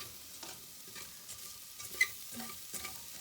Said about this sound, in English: You always want to keep stirring it because you don't want anything to burn.